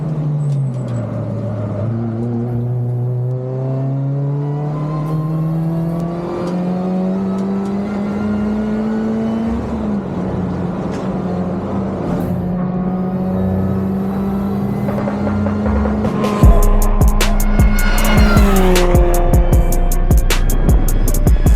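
A Mini and a Mazda Miata racing on a track, their engines droning steadily and rising in pitch as they pull through the gears, with a louder, harsher engine passing close near the end.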